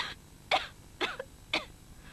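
Three short coughs, evenly spaced about half a second apart, close and fairly loud with quiet gaps between them.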